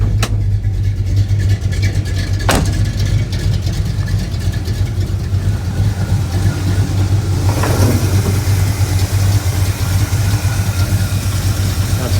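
A cammed 305 V8 runs in a 1981 K10 truck, a loud, continuous lumpy idle with a steady low drone, broken by a sharp click early on and a brief rev swell later.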